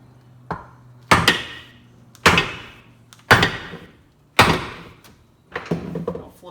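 A hammer strikes a block of wood resting on an anvil during a machinist vise restoration, giving six sharp, close wooden knocks at uneven intervals with short decays between them.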